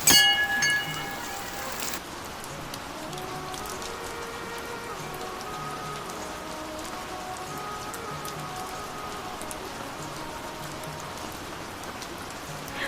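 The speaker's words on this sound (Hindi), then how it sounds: "बहुत ही तेज़ मोटी बारिश होने लग गई" Heavy, thick rain pours steadily at a mountain temple ashram in Uttarakhand, a dense even hiss of drops on surfaces that holds unbroken throughout, with a brief louder patter at the start.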